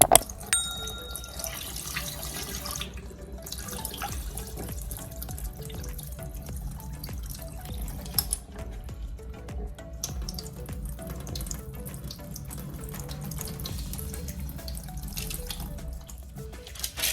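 Running tap water pours steadily into a sink as Job's tears grains are rinsed, a continuous close splashing with small clinks and shifting gurgles throughout and no talking.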